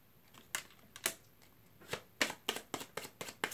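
Tarot-style cards being shuffled in repeated crisp riffling bursts, close and fairly loud, with irregular gaps at first and then a quicker run of snaps toward the end.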